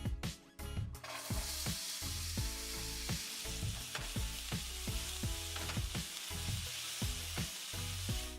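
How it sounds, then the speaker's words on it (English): Onion and red pepper fry in a skillet that was just used to cook sausage, giving a continuous close sizzle with crackles, stirring scrapes and a steady rhythmic pulse underneath. "In the same skillet that we cooked the sausage, we are going to add our onion and red pepper and cook for 5 minutes."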